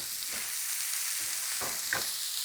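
Onions fry in burger juices on a griddle for sliders, giving a constant close sizzle with a few brief scraping stirs and soft clicks over it.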